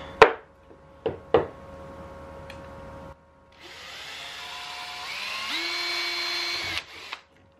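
A power drill pre-drills angled screw holes in wood at an outdoor rainy campsite: a few sharp knocks, then a steady, close drill whine for about three seconds that shifts pitch near the end.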